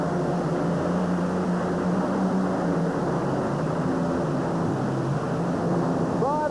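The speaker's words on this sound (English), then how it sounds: "The V12 Allison Aircraft engine, twin fuel-injected Allison Aircraft engine, and Dwayne Bergman." Tractor puller powered by twin fuel-injected V12 Allison aircraft engines roaring continuously at a 1992 USHRA event in Oakland, a loud, dense, sustained engine drone throughout.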